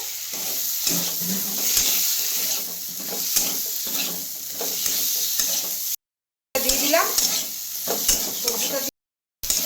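Spices with turmeric and vegetables fry in a pan for a fish curry with black cumin, crackling under repeated scraping stirs. Two short gaps of silence break the sizzle, and a voice speaks briefly.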